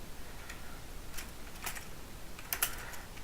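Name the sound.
typing a command on a computer keyboard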